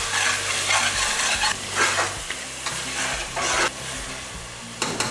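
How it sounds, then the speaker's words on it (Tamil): Masala sautéing with salt in a pan for mutton pulao, a steady close sizzle with repeated scraping stirs of a spoon through the mixture, no voices. "இது நல்லா வதக்கிடலாம்."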